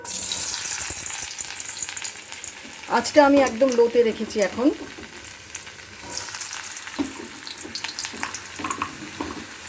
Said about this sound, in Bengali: প্রথমে আমি আগে আলুটা ভেজে নেব আলুটা লাল লাল করে ভেজে প্রথমে আমি তুলে নেবো